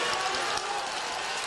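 A football stadium crowd roars and cheers in a dense, continuous wash of noise with no gaps, loud and close throughout the short moment.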